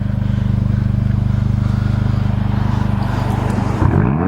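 A Mercedes-Benz CLA 45 AMG with a 2.5-liter inline-four idles loudly and steadily through its exhaust, a dense low pulsing drone, then blips into a sudden rev near the end.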